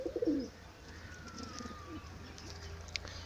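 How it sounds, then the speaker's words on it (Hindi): A sick, sluggish pigeon affected by a disease gives a short, low cooing burst at the start, then quiet background with faint distant chirps; the bird sounds close but soft. "यहाँ सामने एक कबूतर बैठा है, थोड़ा सुस्त है"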